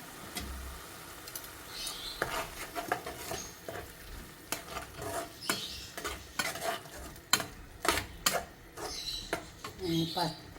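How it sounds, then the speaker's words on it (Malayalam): Curry leaves crackle in a fish tikka masala as a spoon stirs repeatedly, giving frequent scraping knocks and bursts of sizzle over a quiet, close background; a voice speaks briefly. "കറിവേപ്പില ഇട്ട് കൊടുക്കാം."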